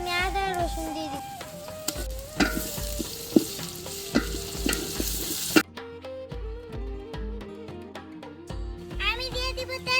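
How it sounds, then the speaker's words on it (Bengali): Onions sizzle steadily in a hot pan while being stirred for a village cooking picnic, with repeated scraping knocks from the stirring spoon. Music plays through it and someone talks at times. "আমি এখন পেঁয়াজগুলোকে ভালো করে নাড়াচাড়া দিয়ে লাল করে নিব"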